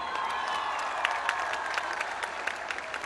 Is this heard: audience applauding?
yes